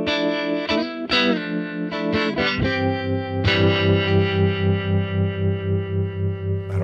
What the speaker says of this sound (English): There's one or two songs that really needed kind of a washy sound.